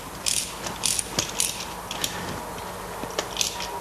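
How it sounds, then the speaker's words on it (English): Wrench tightening a nut on the fitting of a stainless splice closure, heard as a series of soft metallic ratchet clicks and small clanks spread across a few seconds, fairly close. "Take your wrench and then make sure that you have a tight fitting."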